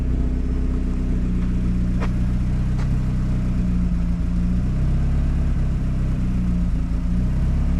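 A turbocharged Mazda Miata with 147,000 miles and a budget exhaust idles from a cold start, giving a steady low, throbbing rumble throughout. No one speaks.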